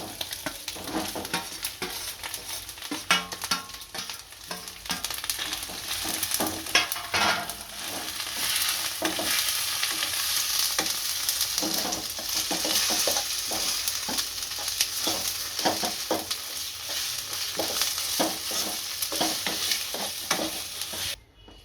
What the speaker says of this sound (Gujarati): અને મિક્સ કરી દઈશું। આમાં બાફેલા બટેકા નાખી દઈશું।